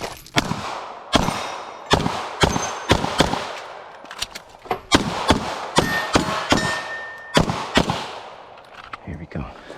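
Rapid pistol shots during a cold start drill, each sharp crack followed by a bright metallic ring as rounds strike steel targets, fired in quick irregular bursts at close range with no talking.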